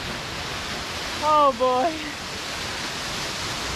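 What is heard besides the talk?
waterfall in a gorge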